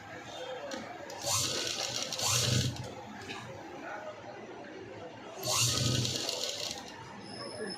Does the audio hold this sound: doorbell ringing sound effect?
no